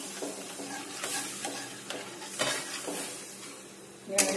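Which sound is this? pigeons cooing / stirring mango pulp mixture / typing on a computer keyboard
stirring mango pulp mixture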